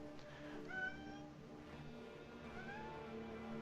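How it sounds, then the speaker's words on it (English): A pet cat yowls in the background, its rising meows faint and drawn out over a steady low hum from game audio, with no one talking. "That would be my cat yelling in the background, if any of you are hearing that."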